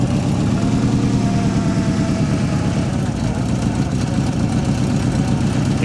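A Shelby Cobra 427 idles roughly through its exhaust, a steady loud low rumble with uneven pulses from an occasional misfire, heard close up for several seconds without talk.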